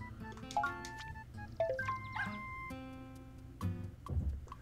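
Undo Dog in the video game Super Mario Maker 2 gives a series of short, bright electronic yips and whimpering barks over light game music, with no talk.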